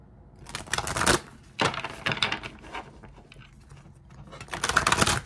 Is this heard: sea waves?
no